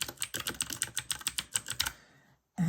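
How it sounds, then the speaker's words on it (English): Fast typing on a mechanical keyboard, a rapid run of crisp, close key clicks that stops abruptly, followed by a short silence and a new burst of sound. "use my mechanical keyboard, which I absolutely love doing"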